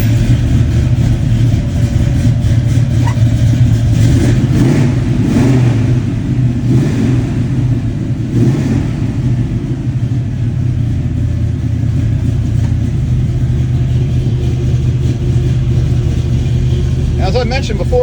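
A 1969 Chevy Nova engine rumbles loud and close, rising in a few revs before settling into a steady idle, with a person talking over it for much of the time.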